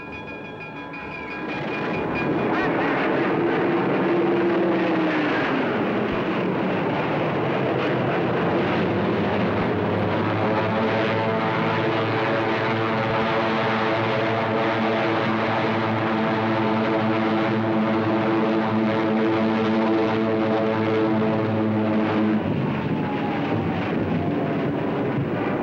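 WWII Hawker Hurricane and Supermarine Spitfire propeller fighters fly over during the Battle of Britain; a loud, sustained engine drone builds within the first few seconds, then holds steady with rising and falling harmonic tones, and no talk.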